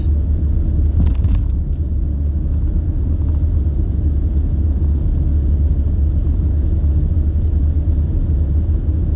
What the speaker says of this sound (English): I'm actually driving up that way right now